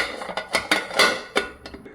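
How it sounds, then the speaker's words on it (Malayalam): Preheated pressure cooker being closed for baking an atta cake, with several close metallic clanks and scrapes of the lid against the pot over about two seconds, no voices. "ഇനി കുക്കർ അടയ്ക്കണം"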